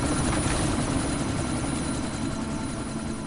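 A helicopter in the video game Deus Ex thumps and roars continuously up close, its dense rotor chop and engine noise filling the whole stretch without pause.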